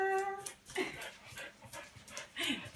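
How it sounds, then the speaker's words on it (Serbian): A dog whimpers and whines in short, high-pitched bursts, mixed with soft panting, fairly close and not very loud. "Da li imaš nekog ljubimca, čujem nekog psa?"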